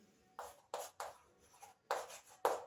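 Someone writes a topic heading by hand, probably chalk or pen on a board, as a series of short, sharp scratching strokes in uneven bursts, close and fairly quiet, with no talking.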